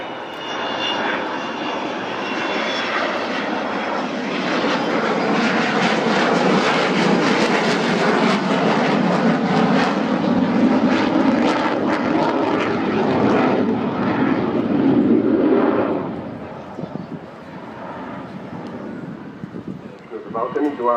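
Avro Vulcan bomber sweeping past at the Farnborough Airshow, a loud, sustained jet roar that swells and holds for about fifteen seconds before fading away, with a crowd murmuring beneath it.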